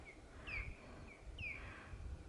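Faint calls from birds nesting atop a power pylon, two short chirping phrases a second apart, heard from a distance over a low outdoor rumble.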